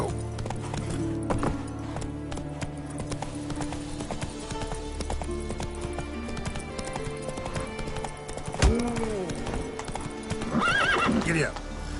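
Horse hooves clip-clopping at a gallop in The Witcher 3: Wild Hunt, with a horse whinnying near the end, set against game music and ambience while a voice talks.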